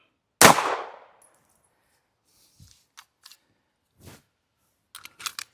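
A single sharp gunshot from a Beretta firing a 90 grain Underwood .380 round into ballistic gel, loud and close with a short decaying tail, followed by faint small clicks and handling noises.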